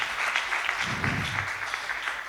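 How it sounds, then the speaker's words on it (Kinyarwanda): Church congregation clapping in a burst of applause for a man after a sermon, dense and steady throughout with a faint murmur of voices underneath. "Tumukomera amashyi n'umugabo."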